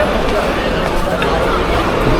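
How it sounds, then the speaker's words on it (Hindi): Dense crowd of pilgrims at Har Ki Pauri on the Ganges in early morning, a steady loud hubbub of many overlapping voices and chatter with no single speaker standing out. "बहुत ज़्यादा ही भीड़ है।"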